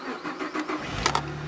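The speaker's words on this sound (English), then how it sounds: "I think we will start the car" A 2008 Saab 9-3 Turbo X engine cranks briefly and catches, settling into a low, steady idle close by.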